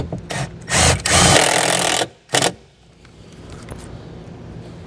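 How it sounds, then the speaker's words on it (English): Power driver sinking a self-tapping screw into bare vehicle metal, a few short whirring bursts then one longer run and a brief final burst, loud and close, followed by quiet room tone. "we'll take the self-tapping screw that comes in our kit here, find a bare metal spot on the vehicle, and secure our ground"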